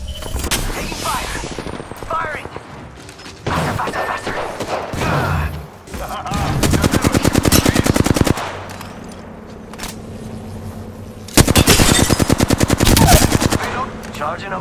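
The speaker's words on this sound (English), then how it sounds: "I am taking fire, friends." Gunfire in the Apex Legends shooter game, with rapid automatic bursts separated by pauses, loud and close, long sustained volleys near the middle and end, over game sounds and faint voice callouts.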